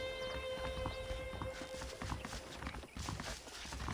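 Horse hooves clip-clop at a walking pace in the Red Dead Redemption video game, a steady, moderately close patter of steps blended with game ambience and a steady tonal hum, with no talk over it.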